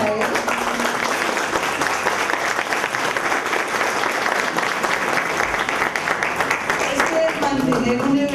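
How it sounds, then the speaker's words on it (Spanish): At a literary festival devoted to fear and fiction, an audience claps for Guillermo Solarte, sustaining thick, even applause from start to finish with some voices mixed in. "un aplauso para él."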